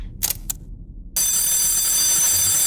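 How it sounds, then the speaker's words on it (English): Alarm ringing in the horror game Asylum, first as two short bright bursts, then after a pause a loud continuous shrill ring that holds steady to the end. "This alarm is still working."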